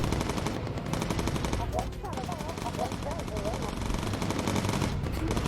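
Bomber gunner machine guns in the Bomber Crew video game, continuous rapid bursts of gunfire filling the whole stretch, with a voice speaking over the shooting.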